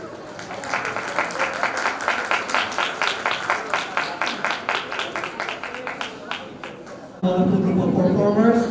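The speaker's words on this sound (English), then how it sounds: "Let us give a warm round of applause once again for this brilliant performance by students at class 7" An audience gives a warm round of applause for a class 7 student performance at a school graduation ceremony in a hall, dense rhythmic clapping that swells and rolls for several seconds before a voice comes in near the end.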